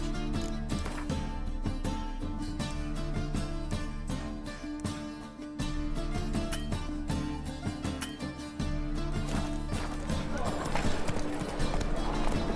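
Roach the horse in The Witcher 3 video game, rapid galloping hoofbeats pounding steadily throughout over a dense bed of game music and ambience, loud and near, with people talking.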